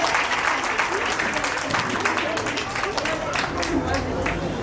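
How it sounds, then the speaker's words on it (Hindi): Audience applause welcoming the stage at a Jain temple drama event in Shakti Nagar, Delhi: dense, steady clapping from a crowd throughout, with voices and murmurs mixed in. "तो एक बार तालियों से मंच का स्वागत कीजिए।"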